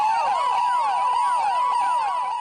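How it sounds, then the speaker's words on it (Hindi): A loud wailing police siren cycles rapidly up and down in pitch, repeating steadily and close by with no other sounds. "सायरन की आवाज सुनकर आसपास रहने वाले कई लोग घरों से बाहर आ गए"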